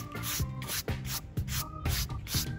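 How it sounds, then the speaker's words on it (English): A broom sweeps loose rocks and grit off a concrete curb in rhythmic scratchy strokes, about five close brushing passes with no talk. "we're gonna finish sweeping this off"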